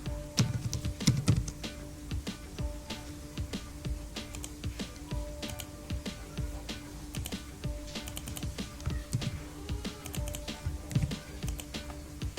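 Keys on a computer keyboard clack in quick irregular bursts, close and fairly quiet, with short pauses between runs of typing.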